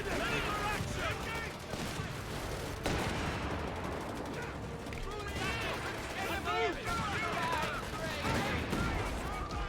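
Howitzer artillery barrage in Company of Heroes 3, a dense stream of booms and gunfire running continuously under loud, excited talking.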